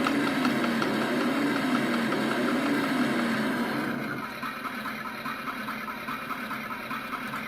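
A toy muscle car's button-triggered engine sound effect plays a raspy, steady electronic idle rumble, fairly faint, that softens and thins after about four seconds.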